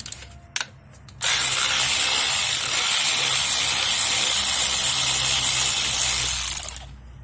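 Ratchet with a deep well socket turning a 10mm bolt off an intake plenum on a Hyundai Genesis, a steady rapid clicking for about six seconds, close and loud, after a couple of brief knocks.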